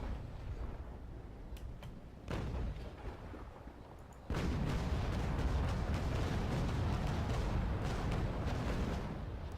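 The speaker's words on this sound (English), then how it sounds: "this will let us basically get the grape shot off that we wanted" Grapeshot cannon broadside fired from a sailing warship in the naval combat game Naval Action, with a rolling sequence of deep booms that builds into a loud, sustained roar of overlapping blasts.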